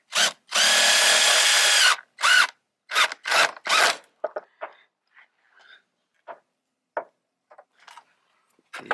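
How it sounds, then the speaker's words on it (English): A power drill drives screws into a Honda Accord side skirt in a garage, with a long loud whir followed by several short bursts, then faint clicks and small tool handling noises. "let me put the other screws and then we're gonna see the end result."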